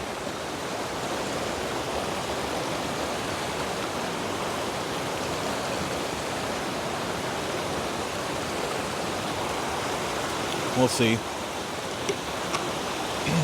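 A river rushes in a steady, dense broadband roar that stays even and close throughout, with a brief spoken phrase and a few small knocks near the end.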